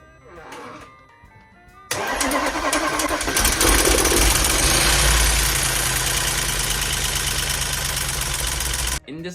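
An Audi engine with no coolant in the system cranks and catches after a short pause, then runs at a loud, steady idle close by until it is shut off.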